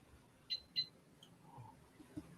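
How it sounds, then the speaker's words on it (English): A faint alarm gives two quick high beeps in a quiet room, followed by a few soft clicks and small low noises. "Alarm just went off."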